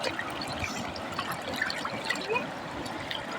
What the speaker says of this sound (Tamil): நல்லா ஆற்று தண்ணியில் நல்லா அழுக்கு போக தேய்ச்சி கழுவுற மாதிரி கழுவுறோம்